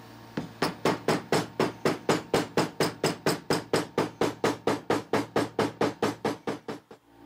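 Rapid steady hammer taps on glued leather of a kukri sheath, about two dozen evenly spaced sharp knocks over several seconds, close and alone.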